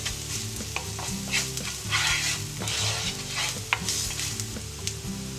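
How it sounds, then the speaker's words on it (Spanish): Whole white peppercorns are stirred and toasted in a hot pan, a steady dry sizzle broken by repeated scraping strokes of a utensil, close and alone with no voices. "La pimienta blanca. Removemos que se tueste."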